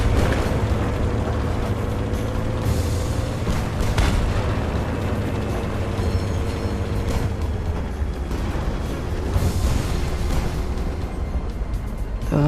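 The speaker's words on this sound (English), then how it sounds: "I'm getting shot at from the back." Tank battle in the Tanks of War game: a loud, continuous engine rumble is broken by several sharp gun blasts and booming explosions spread across the scene.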